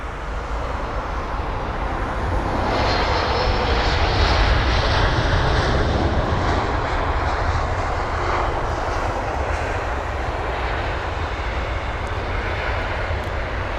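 A jet airliner on its landing approach at London Heathrow Airport roars steadily and loudly throughout, its engine noise broad and continuous with no voices over it.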